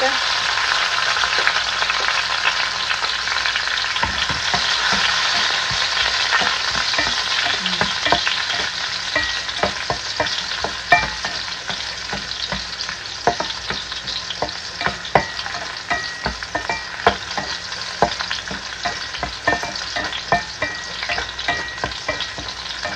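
Garlic frying in a pan for a simple eggplant, tomato and onion dish, a steady loud sizzle with a bright crackling hiss throughout and frequent scraping stirs from a utensil, close up and continuous with no talking.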